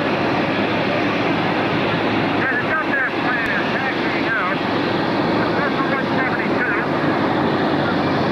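Warbird airplane flying a slow, maneuverable low pass at a 1986 air show, its engine a steady broadband drone throughout, with a commentator talking over it.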